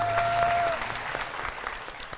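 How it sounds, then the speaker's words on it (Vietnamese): Studio audience applauding on a Vietnamese dating show, a steady dense patter of many hands filling the short stretch, with a brief tonal whistle or feedback line at the start. "xin quý vị vỗ tay"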